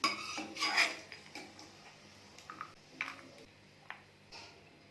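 Metal spoon and pan clatter as ghee-fried dry fruits are scraped from a pan into another bowl for a semolina and sago kheer, several close clinks and scrapes in an irregular rhythm, no talking.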